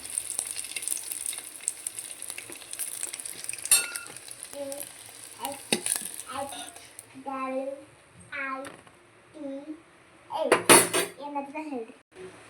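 Egg biryani masala stirred in a pot, with metal spoon clanks and scrapes against the vessel over a faint sizzle, while a voice talks intermittently between the stirring strokes.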